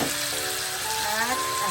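Chicken with aromatics sautés in a pan for a tinola broth, giving a brief, steady sizzle with faint tonal squeaks and a soft background voice.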